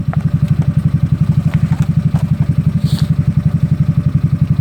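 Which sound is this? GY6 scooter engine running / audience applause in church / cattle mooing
GY6 scooter engine running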